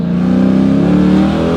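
A Chrysler 300 SRT engine revs loudly and steadily up close, a throaty sustained drone with pulsing harmonics and no voices.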